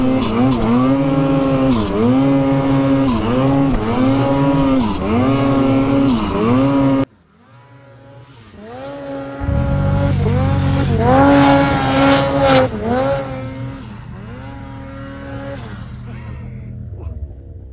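A 146 Lynx snowmobile climbs through handlebar-deep snow, its engine revving loud and close in repeated rising and falling surges, then cutting briefly before another strained, steady run resumes.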